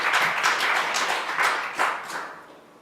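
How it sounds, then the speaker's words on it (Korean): A church revival congregation claps together in thanks to God, a dense, moderately loud patter of many hands that swells and then tapers off over a few seconds. "박수로 하나님께 감사해요."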